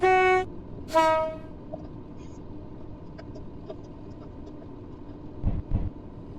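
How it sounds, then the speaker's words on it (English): Two short, loud blasts of a train horn in the Roblox game British Railway sound over a steady rolling engine and track rumble, followed by quieter clunks and a couple of low thumps later. "Might as well honk my horn while I'm at it."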